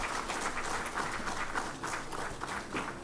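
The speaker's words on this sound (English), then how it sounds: "a big round of applause to all the award winners" An audience at the ISRO Team Excellence Awards 2018 ceremony applauds the award winners, a dense, steady wash of many hands clapping that holds evenly from start to finish.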